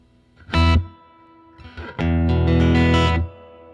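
A Godin Montreal electric guitar rings through an amp with its built-in reverb, a short plucked chord followed by a brief strum and a sustained chord that decays into a reverberant tail.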